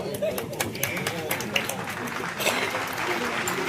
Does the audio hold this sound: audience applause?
yes